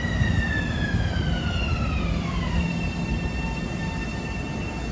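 An M9 commuter train, number 119, rolls past westbound on track 1 at Kew Gardens with a steady, loud rumble and a falling, Doppler-shifted tonal whine, and no talking.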